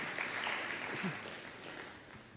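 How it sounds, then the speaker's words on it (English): An audience applauds a lecturer at a university inaugural lecture on planetary sciences, a steady, moderately loud wash of clapping that slowly fades. "we ought to give another round of applause for our lecturer"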